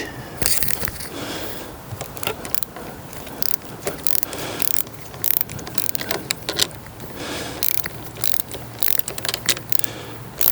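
A ratchet wrench on an extension loosening a bolt under a 2021 Yamaha MT-09 SP, giving repeated quick clicking bursts in short irregular runs, close up and with no talk.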